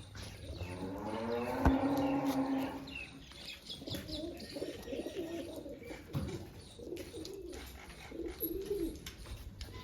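Pigeons, including a newly arrived pink one, coo repeatedly at a rooftop loft, with a louder run of calls near the start and quieter rolling coos after, plus faint wing flutters and open-air background noise.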